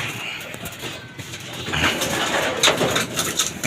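Pigeons coo in their loft during winter, with soft throaty calls and rustling over a faint engine hum. The sounds grow busier and louder toward the end.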